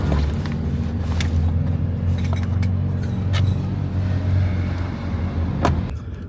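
An Audi RS3 driving along with other cars, a steady, loud engine and road drone throughout, with a few faint clinks inside the cabin.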